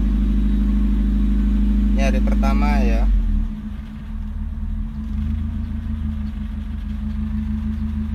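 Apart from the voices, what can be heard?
car engine starting with starter, then idling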